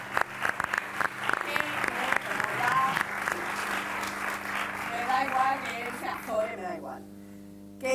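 An audience at a debate applauds a guest, with scattered loud nearby claps over a fuller round of applause; voices are heard mixed in, and the applause fades out near the end.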